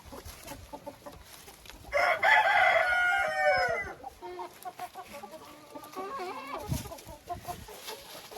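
Backyard chickens cluck steadily, with a loud rooster crow in the middle rising over the softer clucking, all fairly close by.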